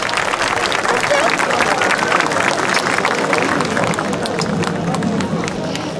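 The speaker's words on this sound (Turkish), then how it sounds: "Tüm ekip için çok güçlü bir alkış rica edebilir miyiz lütfen?" Audience at an Adyghe culture festival in İnliören applauds the festival team, a sustained, loud wash of clapping and crowd noise that stays even throughout with chatter mixed in.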